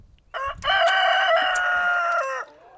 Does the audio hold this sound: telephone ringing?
no